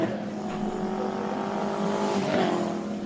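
A Subaru WRX Impreza race car at a hillclimb, heard at a moderate distance with a steady engine drone and a rising pitch as it accelerates, a brief squeal or swell near the end.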